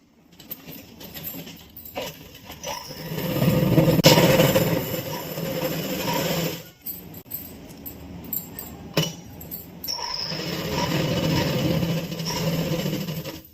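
An electric sewing machine stitching a kurti seam, running in two steady whirring, rattling bursts separated by pauses, with small clicks and handling noises between.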